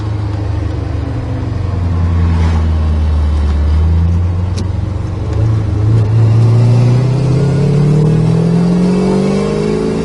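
A 1968 Chevrolet Corvette driving down the road, its engine revving up through the gears with rising pitch sweeps, a brief dip at each shift, loud and close with no talking.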